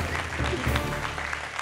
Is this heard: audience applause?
yes